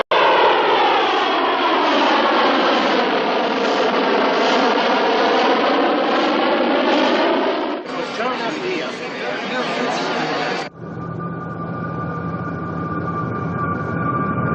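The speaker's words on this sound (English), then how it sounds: "We are about to land." A large passenger airplane comes in to land in a 1977 film, its engines a loud, steady roar that shifts pitch and character as it nears the ground, with voices partly under it.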